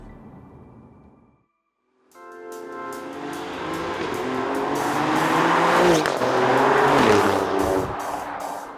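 Alfa Romeo Giulia Quadrifoglio driving past, its engine rising steadily from a low rumble to a loud, building roar as it accelerates, with no talk over it.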